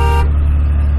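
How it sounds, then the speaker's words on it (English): A single short blast from a truck's stock horn, lasting a fraction of a second over a low engine idle. "Here's the stock horn that came with the truck"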